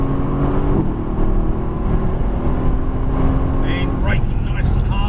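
A Mercedes-Benz AMG GT S pulls hard on a racetrack after an upshift, its engine giving a sustained, rising roar. A driving instructor speaks over the engine.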